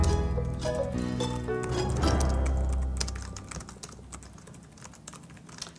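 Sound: typing on a computer keyboard

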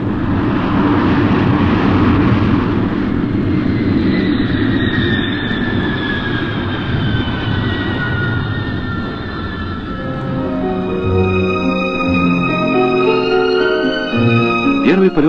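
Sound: Yak-42 airliner taking off on its first test flight

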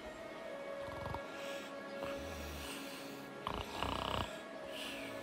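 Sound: Grimlock snoring in Transformers animated movie

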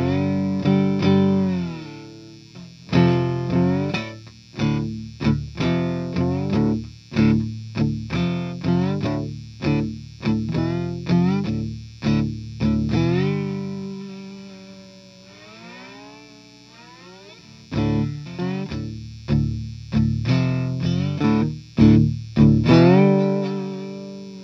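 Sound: cigar box guitar played slide with distortion

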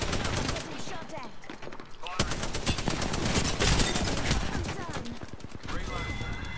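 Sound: gunfire in the video game Apex Legends

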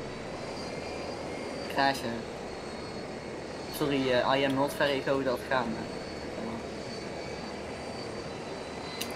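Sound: helicopter flying in the video game Arma 3

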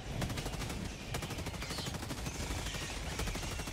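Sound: strafing run gunfire in a video game

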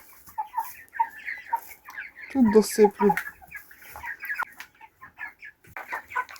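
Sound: chicks clucking while being fed

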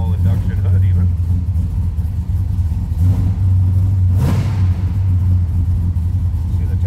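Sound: 1970 Chevrolet Chevelle SS 396 engine starting and idling

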